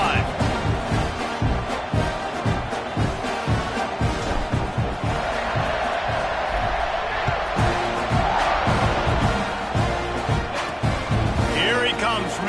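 Home crowd at a Texas A&M college football game against Wisconsin roars steadily throughout, a loud dense stadium din with thumps and surges and voices mixed in.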